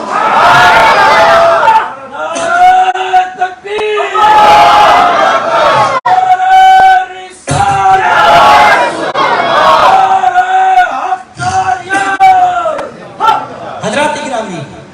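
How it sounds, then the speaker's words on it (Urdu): A large crowd at a Quran jalsa gathering in Fiji chants Subhan Allah in loud, repeated unison bursts, answering a speaker's calls in a call-and-response rhythm, with short pauses between each shout. "سب کہو سبحان اللہ۔"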